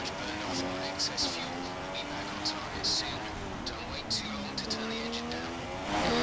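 Race cars roar through the Singapore Grand Prix in a racing video game, with a steady, rising and falling engine whine and occasional tire noise under continuous commentary.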